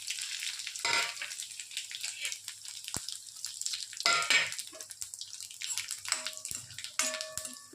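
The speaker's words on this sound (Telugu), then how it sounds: "ఇగో ఎండుమిర్చి, శనగపప్పు, ఆవాలు, జీలకర్ర ఇగో వేస్తాను ఫ్రెండ్స్." Dried red chillies, chana dal, mustard seeds and cumin fry in hot oil, a moderate crackling sizzle with bursts of spattering and a few sharp pops, a faint tonal hum near the end.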